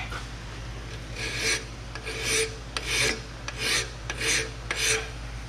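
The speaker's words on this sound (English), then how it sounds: "Take a file, clean this rust up." A hand file rasps rust off the brake parts of a 2006 Jeep Liberty, five slow, rough strokes close up with short pauses between them, over a low steady hum.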